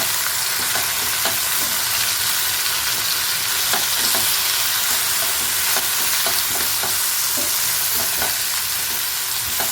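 Spices with black pepper powder stirred as they fry in a pan for a quick lunch dish, giving a continuous sizzle with regular scraping strokes of the spoon throughout, close and steady.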